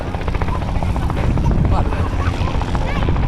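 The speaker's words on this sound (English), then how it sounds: "I want to get this bloody helicopter doing it." A helicopter at busy Caernarfon Airport roars loudly and steadily with a throbbing rotor beat, while people chat nearby.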